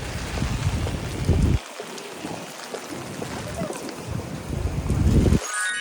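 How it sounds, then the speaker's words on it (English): Heavy rain falls outside a Broadway theatre in New York City, a dense steady hiss with loud bursts of nearby splashing, and speech mixed in. "I'm leaving the theater and it's raining pretty hard."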